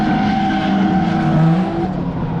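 A Toyota Supra drift car at Fuji Speedway's multi-purpose course, engine howling loud and close with tires squealing as it slides by.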